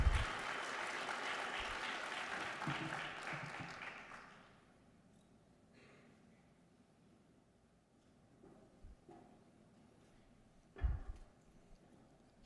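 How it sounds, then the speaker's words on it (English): An audience applauds at a tribal mental health summit in Lawton, Oklahoma, with a steady wash of clapping for about four seconds that then drops away to a quiet room with a few faint knocks. "A round of applause for her."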